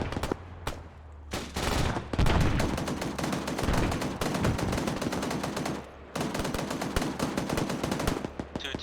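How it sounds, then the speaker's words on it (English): Live-fire gunfire during military platoon training: rapid bursts of automatic weapons and single shots crack continuously and loudly, nearly without pause, with a brief lull partway through. "The AV is gonna be going first, and then it's supposed to be live fire."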